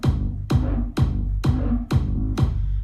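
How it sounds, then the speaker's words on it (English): A deep synthesizer bass plays six evenly spaced notes, each starting with a punchy attack and a downward pitch sweep, steady and loud. "And those two make up the initial bass line."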